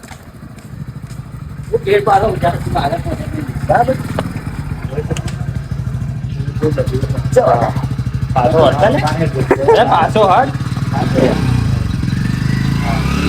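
Motorcycle engine rumbling and revving close by on an outing with a rescue team, a low continuous drone under people talking and calling out.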